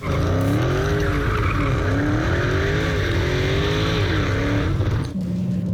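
A supercharged 6.2-litre V8 Dodge Charger Hellcat of nearly 800 horsepower roars loudly and continuously with sweeping engine pitch and tire squeal, ending in a steadier drone.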